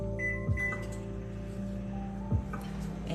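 A microwave oven heats half a cup of water in a home kitchen with a steady low electrical hum, broken by two brief clicks.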